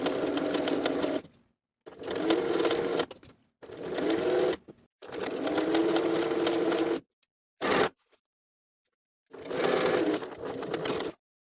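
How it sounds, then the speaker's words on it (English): A sewing machine edge-stitches the folded edge of bias tape around a tank top neckline, running in several steady loud bursts separated by short pauses. "I'm ready to edge stitch along that bottom folded edge of the bias tape all the way around to complete the neckline"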